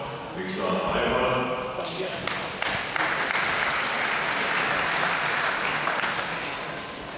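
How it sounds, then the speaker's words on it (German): Audience applause fills a table tennis hall at a 2. Bundesliga match between TV Hilpoltstein and FC Saarbrücken, a steady, dense clapping that swells in and holds loud for several seconds. "Nächster Beifall."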